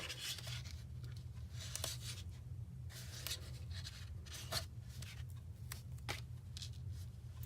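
Tear and tape, a double-sided adhesive tape, is peeled and pressed onto a paper craft panel, making soft intermittent rubbing and crinkling over a steady low hum.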